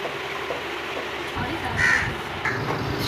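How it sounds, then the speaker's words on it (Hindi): Crows caw outdoors in a Pakistani village, two short calls at mid distance over a steady background hiss, with no talking. "हमारे कौवे भी इंतज़ार कर रहे हैं"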